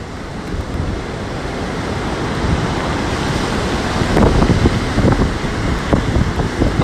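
Storm waves surge and crash against the shore in Sochi during a heavy storm, a loud, continuous roar of surf with wind buffeting the microphone, swelling into heavier breaking impacts toward the end.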